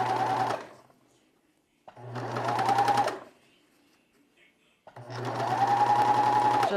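A serger overlocking the edge of pajama fabric with elastic, running in three loud steady whirring bursts of a second or so each, separated by short quiet pauses.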